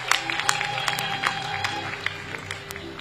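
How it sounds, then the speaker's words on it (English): Applause at a Kampala University graduation ceremony, a crowd clapping with scattered sharp individual claps over a rumbling hall ambience, loud and continuous, with faint voices underneath. "Clap for God again. And clap for our chief guest."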